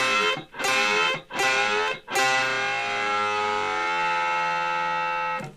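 Electric guitar plays a repeated double-stop bend, three quick bent notes followed by a long sustained one, loud and distorted, with a wailing siren-like rise.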